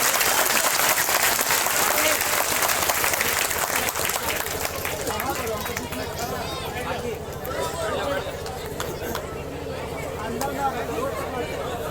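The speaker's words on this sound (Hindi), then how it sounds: "जोरदार तालियों से उनका स्वागत करते हैं" A political rally crowd gives loud, vigorous applause to welcome a speaker at a citizenship law protest; dense clapping starts strong, then thins with shouts and crowd babble mixed in.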